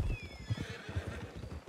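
A horse whinnies loudly over a steady run of clip-clopping hooves in the Western video game Red Dead Redemption 2, the neigh rising and falling while the hoofbeats continue in close, rhythmic succession.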